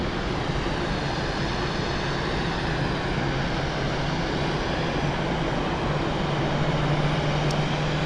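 Swiss Boeing 777-300ER airliner on a flight to Tokyo, giving a steady, broad jet-engine roar that holds evenly for several seconds with no voices.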